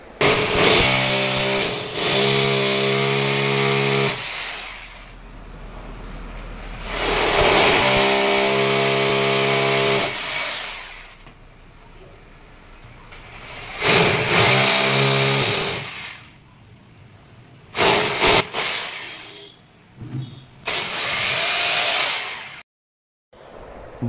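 A power drill bores holes into a wall to mount the plate for a Voltas split AC indoor unit, loud and close, running in several whining bursts separated by short pauses.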